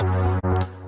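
Distorted guitar patch called Bright plus Wide played dry without effects, a heavy sustained chord with thick bass and fizzy treble, briefly choked then restruck and fading, with no talk.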